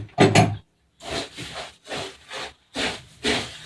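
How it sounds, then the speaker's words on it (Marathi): Puffed rice is being stirred with hot syrup for a Makar Sankranti sweet, giving bursts of dry rustling and scraping that come in about six separate strokes with short pauses between them. "आता आपण मुरमरांमध्ये टाकू आता तर थोडा थोडाच टाकायचा एकदम नाही टाकायचा छान असं मिक्स करून घ्यायचं आहे व्यवस्थित"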